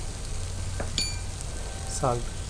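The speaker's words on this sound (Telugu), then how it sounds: "ఈ పేస్ట్ ఏదైతే మనం వేసుకున్నాం ఇప్పుడు ఆ పేస్ట్లోని పచ్చివాదనం అంతా పోయేంత వరకు కూడా మనం ఫ్రై చేసుకోవాలండి" Chicken and ginger paste frying in a pan with a steady broadband sizzle throughout, a couple of brief utensil clinks and a short stir near the end, with no talking.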